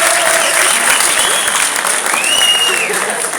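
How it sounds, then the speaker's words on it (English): Audience at a 2013 stand-up comedy show claps loudly and steadily, a dense wash of applause filling the room for a few seconds with faint cheers and whoops poking through. "Big clap, please, big clap."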